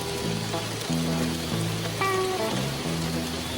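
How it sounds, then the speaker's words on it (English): Heavy rain pours down steadily in sunshine, a dense constant hiss with drips over water near a river, while tonal music-like sounds play faintly underneath. "sun's out and it's piss pouring down rain"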